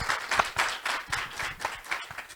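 Applause from a conference audience at an agricultural event, steady and moderately close, a dense patter of many hands clapping throughout.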